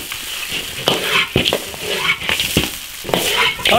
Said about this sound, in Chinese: 羊排骨下锅